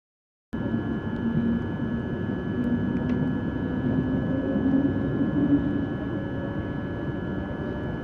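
A train arriving at Paekakariki station on the Kāpiti Coast, New Zealand; the engine rumbles steadily with a constant high whine, close by and unbroken, with no voices.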